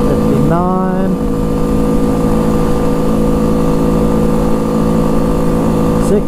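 An ATV engine accelerates hard during a top speed run, a loud steady drone with a rising whine as it shifts gear early on, then holds at high revs, close and unbroken.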